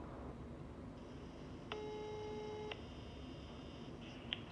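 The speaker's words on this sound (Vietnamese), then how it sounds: "Gọi điện vào cái số điện thoại trong máy định vị này nhá." Ringing tone of a phone call placed to a tiny hidden GPS tracker with listening function, a steady electronic tone over a faint hum, with a brief interruption partway through and a small click near the end.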